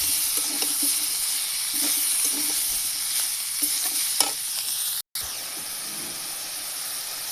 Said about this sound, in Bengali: এগুলো দিয়ে আমি খুব সুন্দর করে ভেজে নেব।